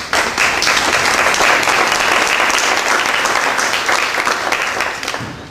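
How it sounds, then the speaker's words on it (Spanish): Loud, dense applause from the audience at an academic book presentation on telenovelas, television and migrants, steady for about five seconds before tapering off at the end. "Les pedimos un aplauso para los invitados."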